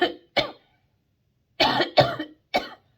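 Five sharp coughs, two close together at the start, then three harsh bursts after a pause, loud and near, with no talking.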